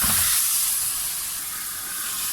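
Chopped tomato masala fries in a pan for a bhindi salan, giving a loud, even steamy hiss close up throughout.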